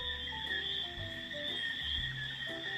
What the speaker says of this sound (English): You hear those little bugs.